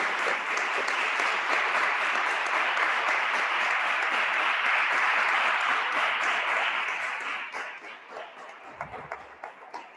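Audience applause after a talk: a broad, loud wash of many hands clapping at an even level for several seconds, then thinning out and fading into scattered claps near the end.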